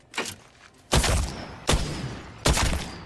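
Triple Take rifle shots in Apex Legends, four loud booming blasts spaced nearly evenly apart, each with a long ringing tail.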